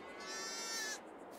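A single wavering bleat from a sheep or lamb in Farming Simulator 22 rings out close and clear for about a second, with a quiet background and no talk.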